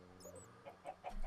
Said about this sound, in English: Why are there so many goddamn chickens around here?